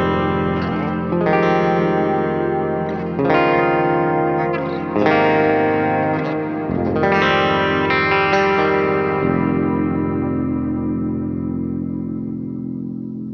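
Jackson Josh Smith SL7 Soloist signature guitar on its bridge pickup with a clean tone, playing a series of ringing chords with effects-like shimmer and echo, each strike decaying before the next, loud and alone.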